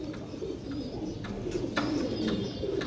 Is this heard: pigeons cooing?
yes